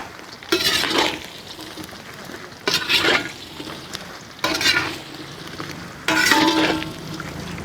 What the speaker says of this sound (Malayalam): നന്നായി ഒന്ന് മിക്സ് ചെയ്ത് നോക്കാം.